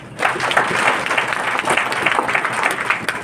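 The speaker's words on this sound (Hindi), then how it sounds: "एक बार जोरदार तालियां" An audience at an olive training session breaks into loud, dense clapping that starts abruptly and keeps a steady crackling roar to the end.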